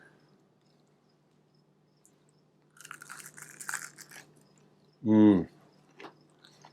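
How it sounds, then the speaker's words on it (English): Crisp crackling bites into a fried green tomato, a few close crunchy chews, followed by a voice speaking briefly. "heard that crunch? That's amazing."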